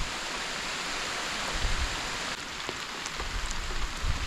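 Heavy rain pours steadily onto a farm, a dense, even hiss that stays constant throughout, with a few brief low thumps.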